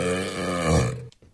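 A long, loud, deep burp, a single sustained belch with a strong rumble that swells midway and then cuts off, followed by faint brief noises.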